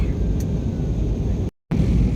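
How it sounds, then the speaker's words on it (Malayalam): A steady, loud engine roar fills the cabin of an airplane descending to land on a Kannur to Abu Dhabi flight, broken by a brief total dropout before the drone resumes. "അങ്ങനെ ഫ്ലൈറ്റ് ഇങ്ങനെ താഴേക്ക് ഇങ്ങനെ മൂവ് ചെയ്യുന്ന"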